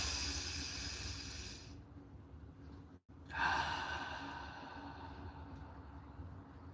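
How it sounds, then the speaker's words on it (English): Someone outdoors in a quiet painting spot takes a slow deep breath: a soft, airy rush of air that swells and fades over a steady faint background hiss, with no talking. "I just take a deep breath"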